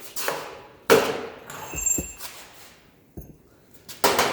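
A chisel is hammered between two spot-welded metal pieces to pop the weld loose: several sharp metallic strikes and clanks, close and loud, with a brief ringing tone and quiet gaps between hits.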